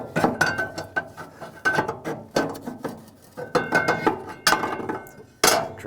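Metal clinks, clacks and ratcheting knocks from fitting the cover of a Harman Accentra 52i pellet stove insert while holding its lever, a close series of irregular sharp rattles and taps with no talking.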